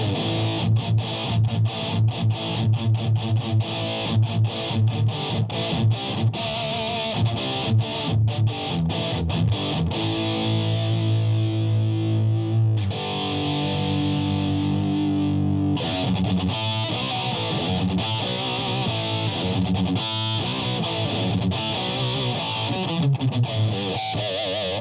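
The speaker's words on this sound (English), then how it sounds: "I'll turn down mids to give it a scooped kind of metal sound." Electro-Harmonix Metal Muff distortion pedal with the mids turned almost fully down for a scooped metal tone, driving heavy palm-muted electric guitar riffs with tight stops and sustained chords, loud and continuous throughout.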